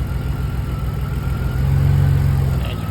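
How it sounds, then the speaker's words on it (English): A car engine idles close by, its low rumbling note shifting and dipping rough around the middle as an ignition coil lead is unplugged, then steadying again, with no talk over it. "you can hear the note in the engine when you plug them out"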